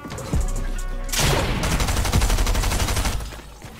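Fortnite SMG fire: rapid full-auto bursts that rattle in quick succession for several seconds, loud and close, with a short gap early on before the firing resumes.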